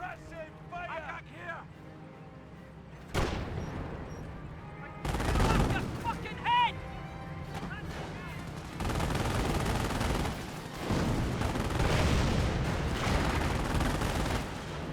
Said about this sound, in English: We do now have the 25-pounder barrage coming on in.